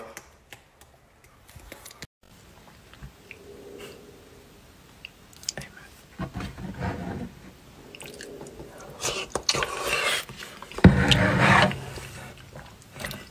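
Someone eats ravioli at dinner, with soft, close chewing and mouth noises, scattered clicks and brief louder bursts, fairly quiet overall with no speech.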